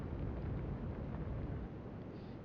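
Continuous low, dense rumble of a ship explosion in the naval warfare game Atlantic Fleet, loud and sustained with a rough, roaring texture that eases slightly toward the end, no voices.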